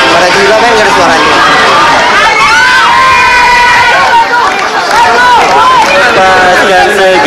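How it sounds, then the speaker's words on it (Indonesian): A large concert crowd shouts and sings along together with no music playing, a loud dense wall of many voices with rising and falling sung lines carrying over the roar throughout. "dia cuma dengar orang-orang cuma teriak-teriak nyanyiin lagu tanpa musik"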